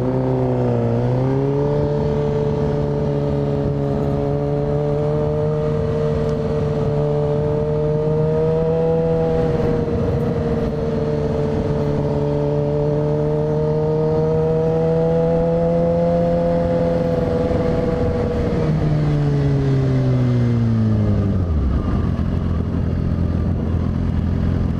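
Motorcycles at a Bikers Against Child Abuse gathering rumble and rev close by, one steady loud engine drone rising and falling in pitch, with another bike passing and fading near the end.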